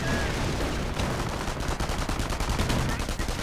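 Video game battle gunfire of airborne troops under fire, a dense crackle of rapid shots over low rumbling explosions, steady and moderately loud.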